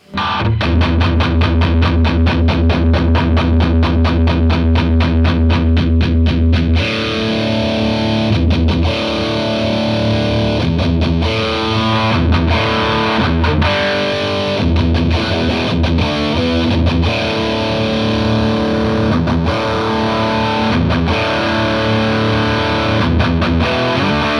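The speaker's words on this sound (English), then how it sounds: "this will give you some classic rock tones" Heavily distorted electric guitar through a BOSS distortion pedal, a fast chugging riff giving way to sustained crunchy chords and stabs, loud and up close with no talking.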